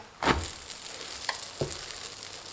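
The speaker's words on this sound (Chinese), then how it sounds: "然后给它翻一个面儿。" A scallion pancake flipped on a hot griddle: a soft thump as it lands, then a quiet, steady sizzle with a faint tap or two, close by and without speech.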